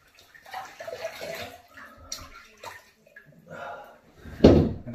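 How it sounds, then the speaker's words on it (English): Tap water splashing in a sink as a man rinses his face after a shave, a soft running spatter with one sharp, louder splash near the end. "I'm just going to rinse off."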